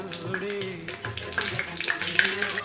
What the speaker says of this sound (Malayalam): എണ്ണ ചൂടാകുമ്പോഴേക്ക് നമുക്ക് ഈ കടുകിട്ട് പൊട്ടിച്ചു കൊടുക്കാം